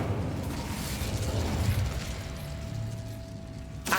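An Incendio fire spell in Hogwarts Legacy on PS5 erupts as a loud, sustained rumbling burst of flame, a steady roar filling the whole stretch with a sharp pop at the very end.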